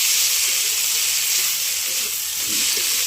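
Bhola fish shutki, dried fish, frying in a pan, a dense continuous hiss and sizzle, close and steady, with faint voice murmurs beneath.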